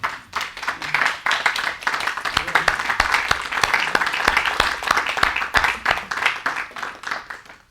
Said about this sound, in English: I think you should all give yourselves a round of applause.